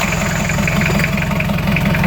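A Toyota Hilux 2.8 diesel with a newly installed turbo and disconnected exhaust runs at a loud, steady idle with a rhythmic low throb, close up and without talk.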